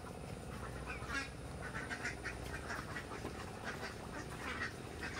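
Ducks quacking around a farm storehouse in the Philippine countryside, a busy stream of overlapping quacks at moderate distance over a dense background, with no speech.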